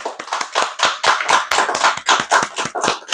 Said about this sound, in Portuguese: Aplauso ao ser.